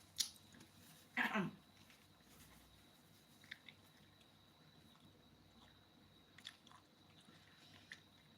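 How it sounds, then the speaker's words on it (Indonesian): Someone bites into and chews boiled banana in a quiet room, with one crisp close bite followed by faint, sporadic chewing sounds over a low background hum. "Sambil makan ya, makan pisang rebus"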